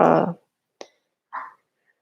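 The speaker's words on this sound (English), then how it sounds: "Sorry, that's my dog." A pet dog makes a few short vocal noises: a loud opening burst, then a brief yip and a short whine, each separated by silence.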